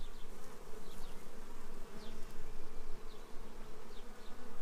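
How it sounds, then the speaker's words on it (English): Honey bees swarm inside an opened hive, producing a dense, continuous buzzing drone with individual insects zipping past now and then; fairly soft overall, with no talking. "There's lots of bees in there."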